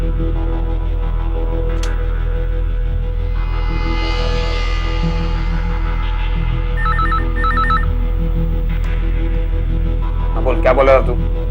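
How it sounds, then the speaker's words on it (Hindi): A telephone rings repeatedly in electronic bursts over a steady low hum, with brief noises near the end. "तुम मेरे को फिर से फोन कर यार शमशेर।"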